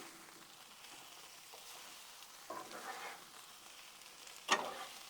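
Spinach wilting in a creamy garlic butter sauce in a pan, with a quiet soft sizzle, a brief stirring rustle in the middle and a sharp utensil clink near the end.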